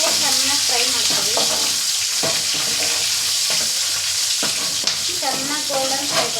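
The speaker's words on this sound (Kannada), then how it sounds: "ಎಣ್ಣೆಯಲ್ಲೇ ಚೆನ್ನಾಗಿ ಫ್ರೈ ಮಾಡ್ಕೊಳ್ಳಿ." Onion frying in oil for a tempering for okra sambar, a steady broadband sizzle running throughout with intermittent spoon-stirring clatter; a person speaks over it at points.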